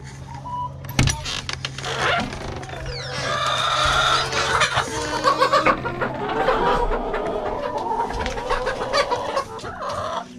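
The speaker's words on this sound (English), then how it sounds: "So what we've got here is a little carry cage with our new chickens." Several chickens clucking and squawking close by in a small carry cage, irregular bursts over a low mechanical hum, with occasional rattles and thumps.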